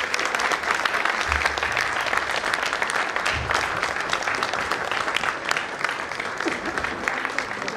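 An audience at an award ceremony claps in a full, continuous round of applause that stays loud and steady throughout, with a faint murmur of voices underneath.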